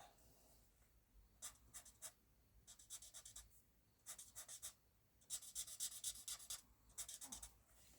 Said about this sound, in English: Just a little scribble,